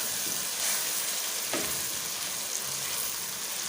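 Masala with chopped green chillies fries for bhindi masala, a loud, dense sizzle that runs continuously, with a single spatula scrape partway through and no talking.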